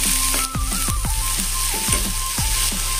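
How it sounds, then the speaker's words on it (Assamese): Chopped onions fry in a pan with ginger, giving a loud, continuous sizzle broken by repeated scraping sweeps of a stirring utensil, with no talking. "ইয়াতে পিঁয়াজখিনি অকণমান ভাজি লওঁ,"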